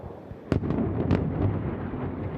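Missiles and air defence interceptions exploding over Tel Aviv, heard as two sharp booming blasts about half a second apart, followed by rumbling echoes that roll across the city.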